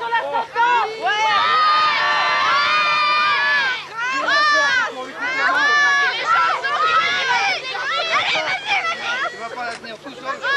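A crowd at a medieval-style knight's return event shouts and cheers loudly for several seconds, a dense mix of raised voices and children's cries with brief dips.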